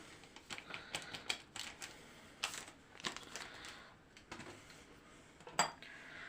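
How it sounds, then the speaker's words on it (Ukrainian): A spoon clinks and scrapes against a bowl as flour is mixed with vanilla and baking powder for a jam pie batter, quick irregular taps and rattles, close and fairly quiet. "Так його ложечкою трошки з мукою."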